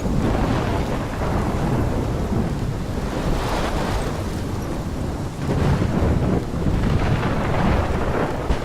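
A heavy thunderstorm in the video game Life Is Strange roars steadily with dense rain and rolling thunder, loud and continuous throughout with no voices.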